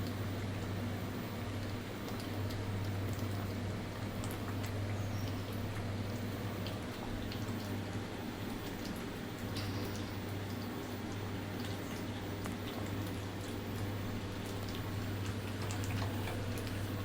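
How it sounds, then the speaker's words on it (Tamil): A tomato pickle spice mixture boils in oil in a pan, giving a continuous close fizzing bubble with scattered tiny pops over a low steady hum, and no one talking. "இது நல்லா கொதித்து இந்த எண்ணெய் மேலே பிரிஞ்சு வரணும்"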